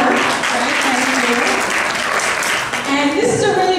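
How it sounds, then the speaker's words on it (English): Loud, continuous applause fills a room at a business talk, many hands clapping steadily for several seconds while voices call and cheer over it. "Let's clap it up."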